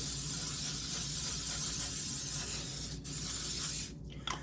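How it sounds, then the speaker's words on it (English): Cooking spray hisses onto a baking pan in a long, steady close-up burst lasting several seconds, with a short pause and a brief final spritz near the end, and no talking. "So we're going to go ahead and start by spraying down the pan first."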